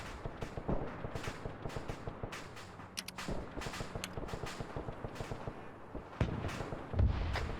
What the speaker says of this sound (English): I'm gonna get on this gun and start shooting.